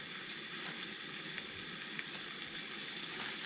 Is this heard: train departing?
no